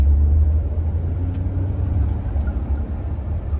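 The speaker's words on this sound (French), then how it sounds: "Je peux accélérer un petit peu, Dominique?" Renault Rafale 300 car accelerating gently, a steady low engine rumble heard from inside the cabin, with no talk.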